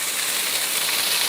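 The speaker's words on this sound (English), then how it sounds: "pan's nice and warm, scrambled tofu, bit sizzly, get it in" Scrambled tofu with sesame seeds sizzles in a warm pan, giving a steady, close, even hiss that holds level throughout with no talk over it.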